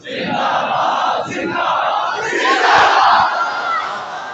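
A large gathered crowd at a religious gathering shouts a Khatm-e-Nabuwwat slogan in unison, loud massed voices rising and surging in waves over a few seconds with a brief peak near the end.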